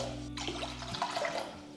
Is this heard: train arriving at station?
no